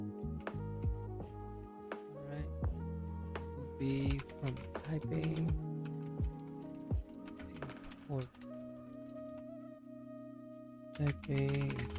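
Typing on a computer keyboard during a programming study session: quiet, rapid key clicks in uneven bursts continue throughout, mixed with soft background music.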